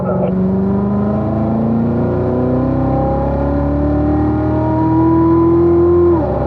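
Race car engine at full throttle on a track straight, loud and steady, pitch climbing through a gear then cutting off sharply near the end as the driver lifts for braking.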